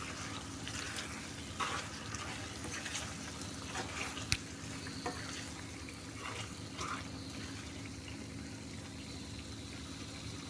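Gongura chicken with chili powder sizzles steadily in a pan while being stirred, a dense continuous frying hiss with occasional scrapes and a sharp clink near the middle, no talking.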